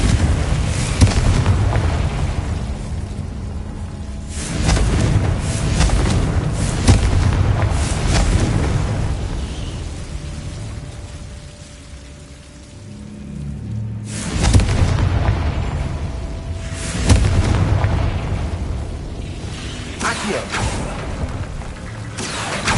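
Confringo blasting spells exploding in the Hogwarts Legacy video game, heard as a string of heavy booms with rumbling tails, the loudest bursts landing near the start, middle and later in the sequence.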